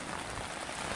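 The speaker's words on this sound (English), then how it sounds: "As you can see, the rain's coming back down again," Fairly heavy rain patters steadily on surfaces during a midday sea fishing session on the shore at Orford Island, a soft, even hiss with no voices.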